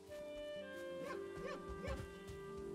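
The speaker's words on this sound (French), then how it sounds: "Ouais, ça c'est clairement des bruits de chien." Dog barks and yips from the video game Valheim, several short bursts around the middle of the clip over steady game music and ambience, with no talking.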